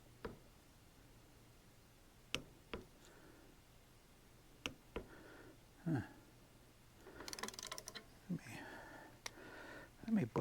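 A Hyper Tough 12V cordless ratchet tightens a fastener toward 150 inch-pounds, giving faint, scattered mechanical ticks and clicks with a short whirring burst partway through, quiet and close.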